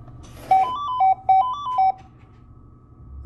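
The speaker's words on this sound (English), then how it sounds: "you can use the intercom and they'll send somebody" A building intercom at a shipper's office buzzes out a calling tone, four short bright electronic chimes in quick succession, fairly close, followed by quiet.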